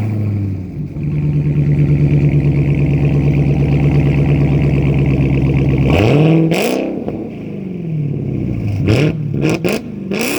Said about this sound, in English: Ooh, that's straight pipe.